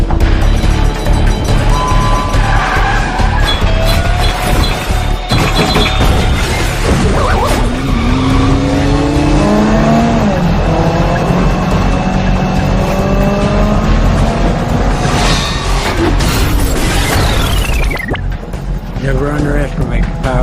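Movie car chase with tires squealing and skidding over a loud, roaring engine, sustained and intense across the whole stretch, mixed with dramatic music and effects.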